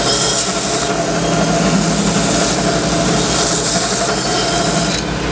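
An abrasive sander grinds down protruding spot welds on a steel roller tube for a roller kit build, a steady loud broadband rasp running continuously without pause.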